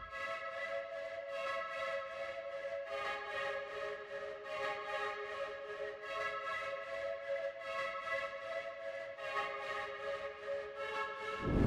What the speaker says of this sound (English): it's one of the default portal presets for shape pan.